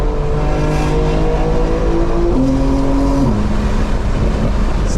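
A 900-horsepower 2025 BMW M4 Competition xDrive accelerating hard in launch control, heard from inside the cabin: a loud, steady engine roar whose pitch climbs, drops at gear shifts and climbs again.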